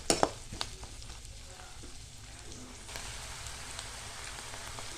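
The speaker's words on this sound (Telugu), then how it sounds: "కొద్దిగా కరివేపాకు, ఇవన్నీ వేసుకుని కొంచెం ఫ్రై అయ్యే వరకు వేపుకోవాలండి." Onions and curry leaves fry in a pan for an ivy gourd masala curry: a few sharp crackles at the start, then a soft, even sizzle continues alone at low volume.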